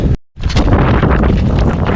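Strong mountain wind buffets the microphone during a snowshoe trek toward a pass in the Pays de Sault, a loud, steady roar after a brief dropout at the start.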